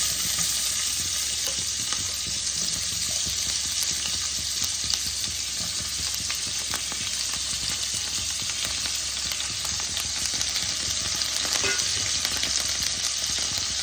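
Onions frying in a pan with a little turmeric and salt give off a loud, dense, unbroken sizzle and hiss that stays even throughout, close up with no voices.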